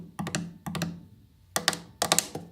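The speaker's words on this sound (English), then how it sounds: "start with 3 fast hits on top over here with your ring, middle and index finger" Quick fingertip and nail hits land on the top of an acoustic guitar in small bursts of three, sharp close-up knocks with ringing body resonance between the strikes, and no talking.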